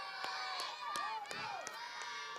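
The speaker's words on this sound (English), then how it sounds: "We've got an amazing cheering side for Mumbai Monarchs" Spectators cheering at a live amateur cricket match in the United Cricket Bash 2017, a steady broadband crowd roar with shouts and whistles rising and falling throughout.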